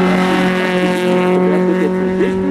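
A BMW M3 race car launches at the Rechberg hill climb, its engine a loud, steady harmonic drone close by, with pitch shifting slightly through the run.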